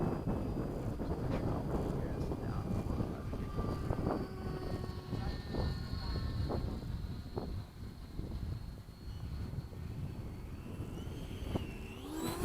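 An FMS 80mm Hawk model jet flying at an airfield, a steady electric ducted-fan whine and rushing air with wind buffeting the microphone, the pitch rising and falling as the plane passes, with background voices.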